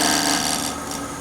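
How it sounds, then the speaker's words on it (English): A shear scrape on wood spinning on a lathe while turning a triangular box, giving a steady, close, fairly loud rasping hiss that fades slightly toward the end, with no talking. "Again, I'm going to do that shear scrape."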